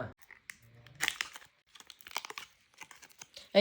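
A packet of Jolo chips is torn open, with scattered crinkling and ripping bursts of plastic spread over a few seconds and a louder rustle at the very end.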